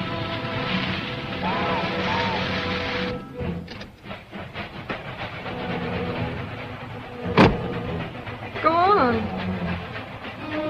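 A car driving away in a 1933 film, a low engine hum running steadily beneath talking voices, with a brief sharp sound partway through.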